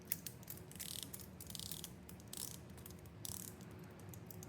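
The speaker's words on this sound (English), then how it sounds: "Hopefully you get that nice clicky 60 click bezel action." A 60-click rotating dive time bezel on a chronograph watch is turned up close, giving a faint run of tiny ratcheting clicks, some in quick bursts.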